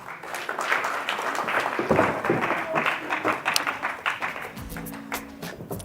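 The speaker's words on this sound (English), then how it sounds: "ladies and gentlemen, another round of applause for them" An audience applauds panelists leaving the stage at a South African directors' event, with sustained, moderately loud clapping and crowd murmur, plus a short tonal hum near the end.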